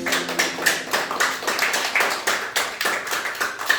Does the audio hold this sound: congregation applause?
yes